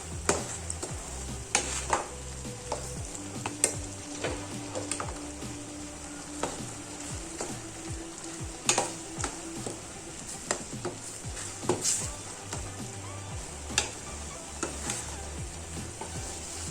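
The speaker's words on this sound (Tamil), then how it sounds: "இப்போ இதில் லாஸ்ட்டாக தேங்காய் துருவலை போட்டு கிளறி" Grated coconut is stirred into turkey berry koottu in a pan. A spoon scrapes and taps against the pan in a steady run of clicks and knocks over a soft, constant sizzle, with no voices.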